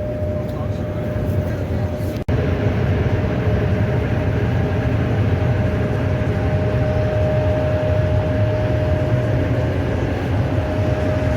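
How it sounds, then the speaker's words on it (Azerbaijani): A Chinese high-speed train, heard from inside the carriage as a steady, smooth rumble with a faint constant whine and one brief dropout, while someone talks over it. "Hal-hazırda Çində sürət qatarındayıq."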